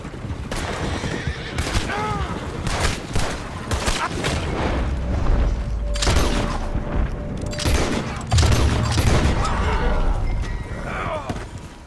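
Rapid volleys of gunfire in Red Dead Redemption II crack out across a busy scene, mixed with horses whinnying and clopping and game characters speaking throughout.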